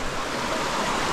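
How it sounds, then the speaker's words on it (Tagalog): A stream flows steadily in a steady, full wash of rushing water that stays close and continuous, with no voices. "Ang ganda ng sapa."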